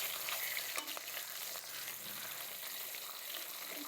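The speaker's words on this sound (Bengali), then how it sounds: "মাছটি একটু ভাজা নিতেছি" Singi fish frying in a pan gives a soft, steady sizzle with a few light stirring clicks, quiet and close, with no voices.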